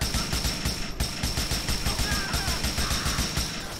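Rapid automatic gunfire in Grand Theft Auto IV, a loud, continuous rattling stream of closely spaced shots, up close and dense for the whole stretch, no speech.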